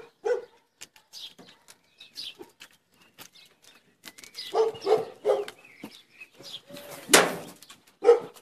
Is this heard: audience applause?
no